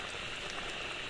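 A pot of borali fish curry bubbles at a steady, even boil, a continuous soft hiss and patter like light rain that stays level throughout.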